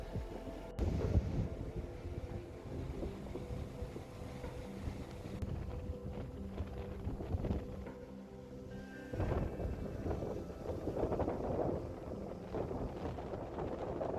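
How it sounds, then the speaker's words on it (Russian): Strong wind buffets the microphone with a continuous low rumble that surges and eases, loud and close throughout, with no voices. "здесь очень ветрено"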